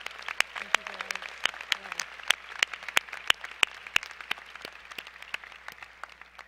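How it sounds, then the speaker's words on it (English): Audience applause for speakers at an MBA commencement ceremony, heard as sparse, distinct individual claps at a steady pace over a quiet hall background, fairly faint. "I think we need to give one more round of applause for all of our speakers"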